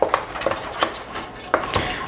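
A utensil stirs pumpkin pie filling ingredients in a bowl, giving a handful of sharp scraping clinks against the sides at irregular intervals, close up with no talking.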